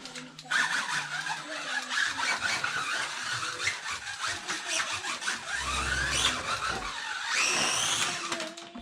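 Scalextric slot car whirring around a track, a continuous motor whine with rattling and a rising electric pitch near the end, fairly loud and close, with no talk.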